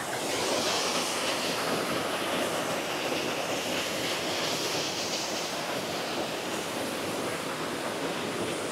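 Water from a tall waterfall plunges into a huge valley, making a loud, steady roar of rushing water with no break, mixed with wind, and no voices.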